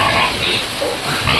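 A pig of about 50 kilos grunts and snuffles loudly and close up while being fed, a rough, noisy stretch of feeding sounds with no clear pauses.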